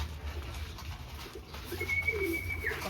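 A pigeon coos nearby, a low soft warbling call rising briefly over a faint background hum.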